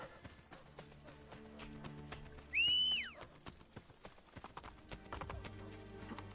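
Horse hooves clip-clop in a steady trotting rhythm in the video game Assassin's Creed Brotherhood, with a brief loud neigh partway through and some game ambience underneath.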